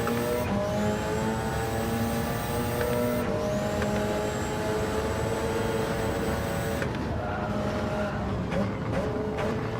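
A race car on soft tires in Gran Turismo 7 drives a multi-class race with a loud, continuous engine note that rises through the gears, shifts abruptly twice and carries a faint tire scrub beneath.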